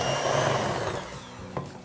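An electric mixer whirs steadily, creaming butter and powdered sugar for lemon butter cookies, a close, continuous motor drone with a slight clack toward the end.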